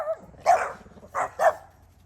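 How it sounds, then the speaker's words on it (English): A few dogs bark in three short, sharp yips at moderate distance beside a moored narrowboat, with quiet pauses between the barks. "Got a herd of dogs. Look at them."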